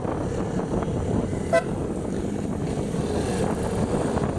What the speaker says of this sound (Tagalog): Parang lumakas ang aking busina ngayon.